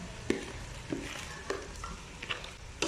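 Raw rice and glutinous rice are stirred in a cooking pot, with a few sharp scraping strokes at a steady, unhurried pace and a soft hiss between them. The sound is close and moderately quiet, with no talking.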